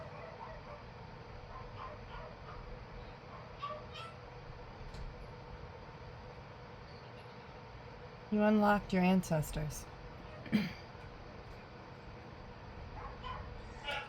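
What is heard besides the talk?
dogs barking, greeting someone who just got home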